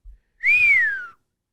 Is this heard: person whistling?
yes